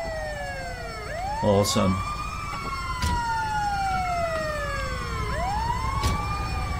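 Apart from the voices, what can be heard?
ambulance siren in the video game GTA 5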